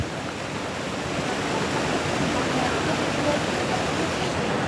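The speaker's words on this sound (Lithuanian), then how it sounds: "Kuldigos krioklys." Kuldiga waterfall in Latvia roars as a steady, broad rush of falling water close by, its dense wash of noise unbroken and slightly building over the few seconds.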